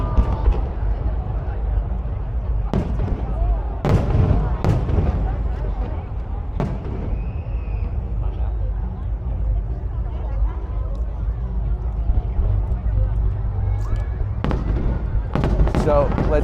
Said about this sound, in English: So I believe we have about 3 minutes more of this fireworks show